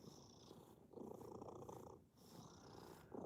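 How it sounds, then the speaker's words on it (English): A large 25-pound farm cat purrs loudly and steadily up close in a cat house, the rumbling purr rising and falling in long breaths with brief pauses between them. "He's the loudest purring cat we have."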